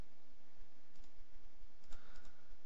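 A few close, crisp clicks from a computer mouse during item crafting in Path of Exile, coming in small quick clusters over a steady low background hum.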